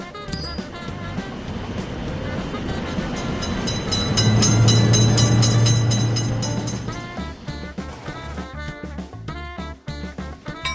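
A game train thunders past a level crossing, the noise rising steadily to a loud, humming peak before fading into crisp, repeating clicks and clanks of the wagons. No speech.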